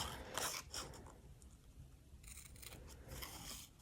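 Spring Action Easy Snips scissors fussy cutting paper, a few crisp snipping bursts close up and fairly quiet, separated by short pauses.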